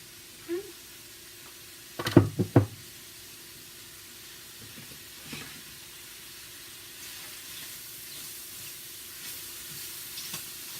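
Mushrooms fry with garlic in olive oil in a pan, giving a faint, steady sizzling hiss. A few brief clattering knocks of stirring break through near the start.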